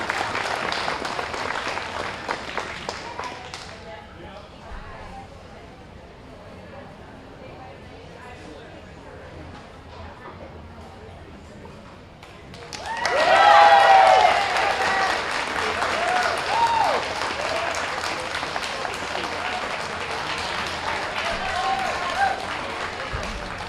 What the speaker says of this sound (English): let's give them a nice round of applause